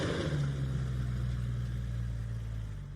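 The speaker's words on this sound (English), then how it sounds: "in the distance, she heard a car's engine roar as it took off" A car engine roars steadily as the vehicle pulls away, a loud sustained low rumble that holds for a few seconds and then eases slightly at the end, with no talking.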